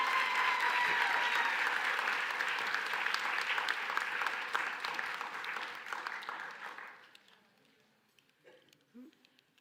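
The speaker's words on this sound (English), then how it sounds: "let's give another round of applause for Keishla Rivera." Graduation audience at a nursing commencement ceremony gives a sustained round of applause that fades out after about seven seconds, leaving near silence with a faint sound or two.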